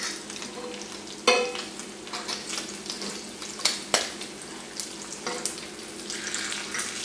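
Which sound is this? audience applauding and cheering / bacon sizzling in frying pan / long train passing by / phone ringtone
bacon sizzling in frying pan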